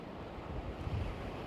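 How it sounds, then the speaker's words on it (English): Strong storm wind roars against the microphone while waves crash over the Lake Pontchartrain seawall in New Orleans, a steady, loud rush with no voices. "we are definitely feeling the wind"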